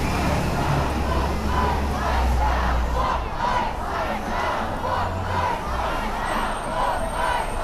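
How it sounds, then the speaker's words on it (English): Protesters chanting together in a park at an anti-ICE march in Kansas City as light snow falls, loud and rhythmic with repeated call-like phrases over a steady crowd roar. "the people are still here in the park chanting."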